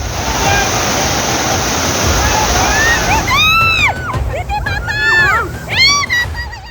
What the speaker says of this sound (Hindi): पानी का ये प्रचंड प्रवाह प्राकृतिक विपत्ति की खौफनाक व्याख्या कर रहा है।